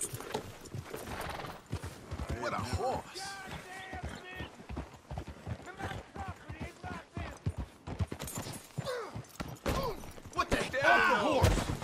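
Horse hooves clip-clop steadily in Red Dead Redemption 2, with a whinny and occasional thuds under the game's spoken dialogue.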